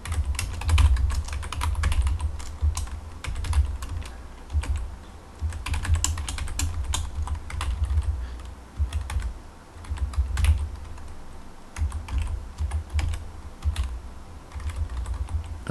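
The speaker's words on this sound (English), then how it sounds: "I'm going to type this in, so bear with me." Steady typing of program code on a computer keyboard: a continuous, uneven patter of close, crisp key clicks with short pauses and occasional heavier strikes, running for about fifteen seconds with no talking.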